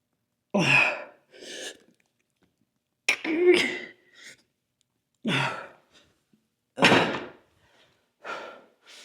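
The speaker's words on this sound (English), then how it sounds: "One more cough." After a hard lower-body garage workout, a person lets out several heavy, breathy coughs and gasping exhales, close and separated by short pauses.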